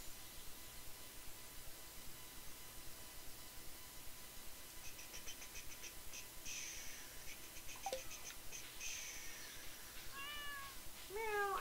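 A pet cat meows softly several times in a quiet indoor room, the short rising cries growing more frequent toward the end over faint background hiss.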